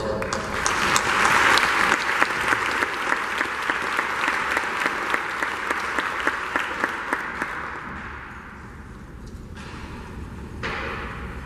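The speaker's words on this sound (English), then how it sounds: "So we applaud them" A crowd claps loudly and steadily at a university event, a dense wash of hand claps with sharper individual strikes that gradually thins and fades toward the end, leaving only light scattered clapping.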